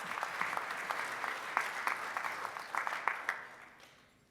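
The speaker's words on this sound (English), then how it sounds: "Let's give our Rotarians a round of applause." A round of applause from the members at a Rotary club meeting, steady clapping from a small crowd that holds at an even level and then tapers off toward the end.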